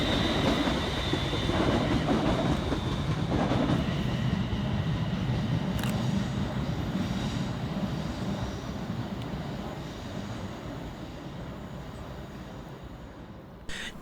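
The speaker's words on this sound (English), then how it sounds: "Next to pass on by the high level is 380015, working 2 Oscar 40 for Scotrail from Glasgow Central through to Glasgow" A Scotrail class 380 electric unit, 380015, rolling past on the high level line at Pollokshields East station, a steady rumble and wheel clatter that starts loud and close, then slowly fades as it draws away, with no voices.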